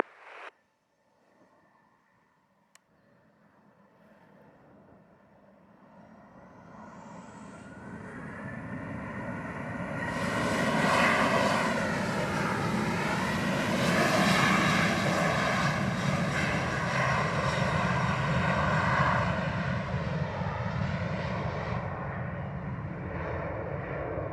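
An American Airlines jet airliner takes off from runway 07 in Jamaica, its engine roar building from near silence to a loud, sustained rumble and whine that peaks mid-clip and holds steady without speech.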